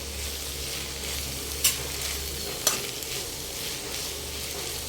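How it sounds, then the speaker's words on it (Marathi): Four chopped tomatoes fry in a pan for hotel-style paneer masala, giving a steady, loud, close sizzle with two brief scraping clicks of a spatula partway through. "आता यामध्ये मी 4 टमाटर जे होते ते कापून घेतले होते आणि तेही आपण आता याच्यामध्ये छान असं फ्राय करून घेणार आहोत।"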